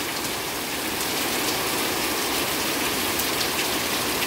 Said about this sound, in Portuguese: Só a chuva mesmo.